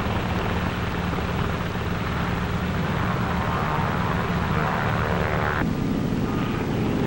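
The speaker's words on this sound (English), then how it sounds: "Navy F-6F mother control planes are catapulted from the carrier's flight deck." Navy F6F planes launched by catapult from an aircraft carrier's flight deck at sea, a loud, steady roar of piston aircraft engines and wind that fills the whole stretch without a break.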